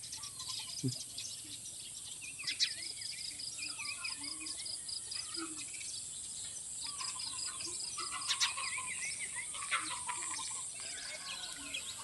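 A rural village yard in the morning with chickens and ducks, scattered fowl calls and clucks over a steady chorus of insects and birds, fairly faint with no talk.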